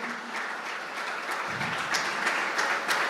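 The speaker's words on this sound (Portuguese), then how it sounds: "Você pode aplaudir Jesus na vida deles." A church congregation applauds in a dense, even wash of clapping that grows slightly fuller partway through.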